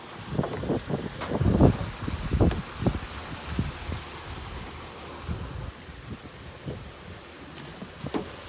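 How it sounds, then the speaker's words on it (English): A small boat is shifted across the water at an oyster farm in Eureka, California, giving scattered knocks and sloshing bumps, loudest early on, over steady wind rumbling on the microphone. "I'm going to take the boat and move the boat."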